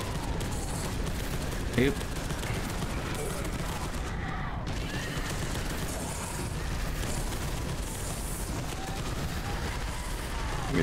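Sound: gunfire in the video game Space Hulk: Deathwing

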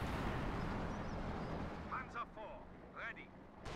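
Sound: Sexton artillery barrage in video game Company of Heroes 2

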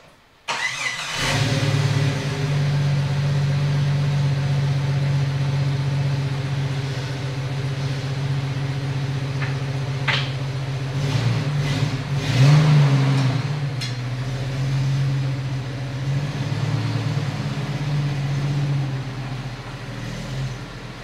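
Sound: Jeep YJ driving around the block

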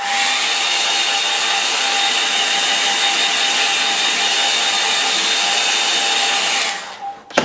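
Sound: hair dryer drying a watercolour painting

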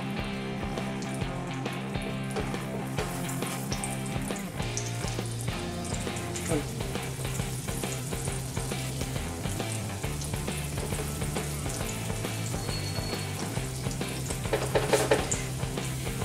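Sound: potato patties frying in ghee

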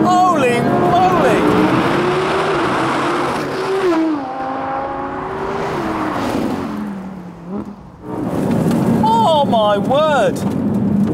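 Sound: Porsche 911 Turbo accelerating hard in race

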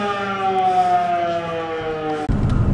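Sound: warning siren in coastal town

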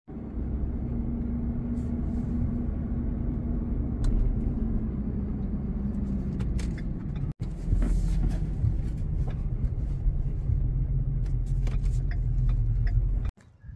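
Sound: truck driving while towing a stock trailer

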